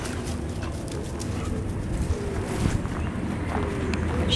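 Young shelter puppy moving about with soft whimpers and light footfalls, scattered small noises over a steady background murmur at moderate loudness.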